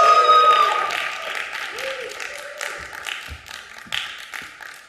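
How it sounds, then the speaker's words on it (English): Comedy club crowd applauding and cheering for a comic taking the stage, a dense wash of clapping that starts loud and slowly thins, with scattered whoops and music faintly underneath. "That was a lot more applause for Connecticut than anyone should ever give."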